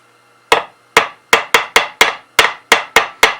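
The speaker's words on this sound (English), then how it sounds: "hold it in place and tap it with the hammer" A hammer taps fret wire into the slots of a cigar box guitar neck: ten sharp, evenly spaced metallic strikes, close and clear, with a brief pause before the first and no talking.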